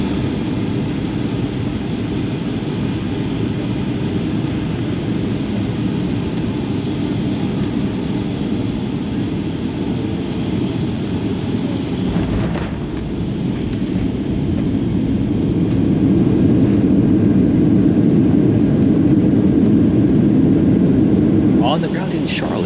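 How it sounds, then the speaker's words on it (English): Airliner cabin on final approach into Charlotte, a continuous loud engine and airflow roar that swells louder toward the end, with no talk. "we are about to land"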